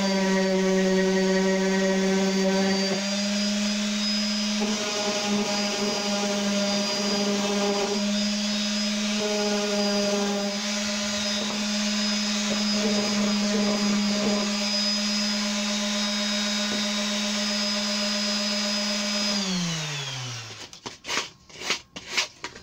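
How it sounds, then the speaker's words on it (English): A power sander sands wood edges with a steady, loud whine and hum, its pitch shifting slightly as it works, then winds down and stops with a few clatters. "I'll just sand those off."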